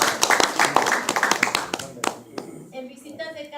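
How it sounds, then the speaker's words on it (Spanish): Brief, close applause for church volunteers at a prayer ministry meeting, a burst of sharp hand claps that thins out after a couple of seconds, with people talking underneath and a voice continuing at the end. "pero un aplauso para ellos."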